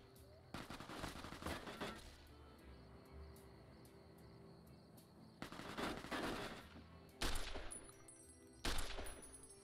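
Automatic weapon fire in Fallout: New Vegas, several loud sustained bursts of rapid shots separated by quieter gaps, with crickets chirping faintly in the background.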